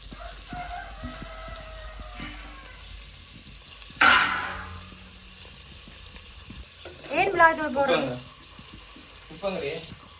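Mustard seeds and curry leaves sizzling in hot oil while chicken biryani is cooked: a crackling fry with a sharp loud burst partway through and later spluttering pops, under faint background voices.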